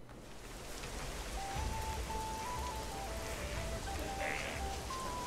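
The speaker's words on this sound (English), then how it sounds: "Oh, it's raining this side." Steady rain falling in the 3D Viking platformer game Viking Sigurd's Adventure, a dense continuous hiss under soft in-game musical tones, with no talking.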